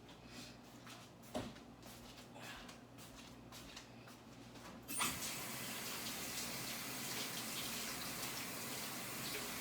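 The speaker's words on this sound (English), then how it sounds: "Let me wash my hands first." Kitchen tap turns on partway through and water runs steadily into a sink for hand washing, following a few quiet clicks and knocks of kitchen handling, close and moderately loud.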